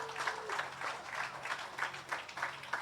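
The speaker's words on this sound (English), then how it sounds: "A round of applause for her." A faint, steady patter of applause from an audience at a housing presentation in Roseau Central, rising and falling in soft waves.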